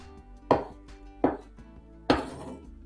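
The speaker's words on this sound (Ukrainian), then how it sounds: "Наріжу тепер невеличкими кубиками авокадо." Three separate knife strikes through avocado against a cutting board, cutting it into small cubes, spaced unevenly, each a sharp thud with a short ring after it, in an otherwise quiet room.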